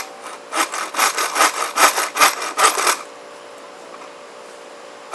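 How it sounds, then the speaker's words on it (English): A Sogfari Kukri machete's sawback edge cuts through a fresh piece of lumber in about nine quick, rhythmic rasping strokes, close and clear, then stops, leaving quiet. "let's see how quickly we can saw through this fresh piece of lumber"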